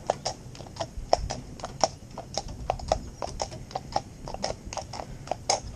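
Horse hooves clip-clop steadily on a road at a walk, crisp and close, in an even rhythm of sharp strikes with faint background noise.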